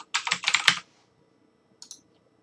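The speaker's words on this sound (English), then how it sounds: "you're going to log in as admin with the password that you just created." A computer keyboard with a quick run of crisp keystrokes for a password, then a brief pause and two final taps, close and clear in a quiet room.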